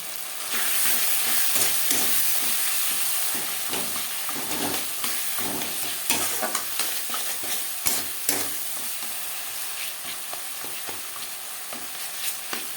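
Spices frying in a pan with turmeric and salt for a tilapia curry with potato and cauliflower, a steady loud sizzle broken by repeated scraping stirs and clattering spoon knocks, with no voices.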